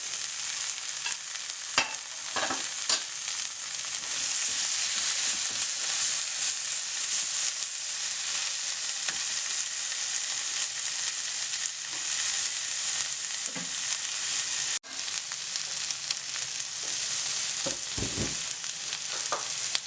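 Dry masalas and chopped tomatoes frying in a pan for channa dal gravy, a continuous loud sizzle with occasional scraping stirs and spoon knocks throughout.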